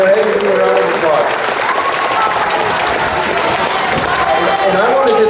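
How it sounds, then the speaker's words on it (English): An audience at a high school awards ceremony breaks into loud, sustained clapping that fills the room throughout, with a few voices mixed in. "Yeah, go ahead and give me a round of applause."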